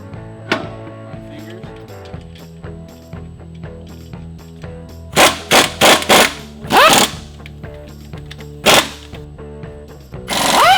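A power tool rattles in several short, loud bursts while lug nuts are tightened on a racecar wheel, with pauses and clanking between bursts.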